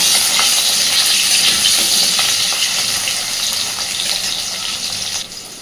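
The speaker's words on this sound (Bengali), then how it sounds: "সুন্দর করে আলুগুলোকে আমি ভেজে নেব" Long-cut potato strips fry in a pan of hot oil for an eel fish kalia, giving a steady, close, hissing sizzle that fades slightly toward the end.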